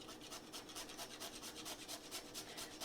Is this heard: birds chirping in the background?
no